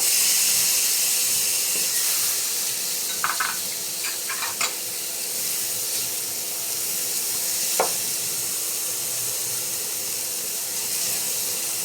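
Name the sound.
garlic and onion sizzling while sautéing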